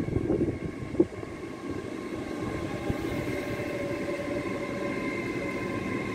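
A Great Western train at Reading Station makes a steady low rumble with a faint, even hum, and a single sharp clunk sounds near the start, with no talking.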